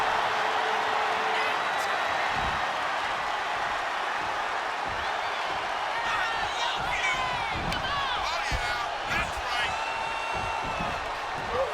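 A roaring wrestling arena crowd in the WWE 2K25 video game fills the whole stretch as a dense, steady wash of cheering, with thuds and a game commentator's voice over it.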